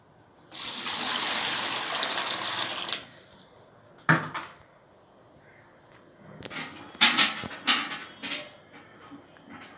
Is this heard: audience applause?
no